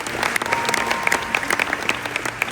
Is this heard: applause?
yes